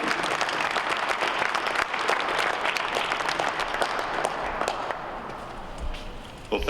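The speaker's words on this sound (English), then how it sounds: "please bring a round of applause for Mayor Don Iveson" A city hall audience gives a round of applause for the mayor of Edmonton, sustained dense clapping that holds for several seconds before tapering slightly.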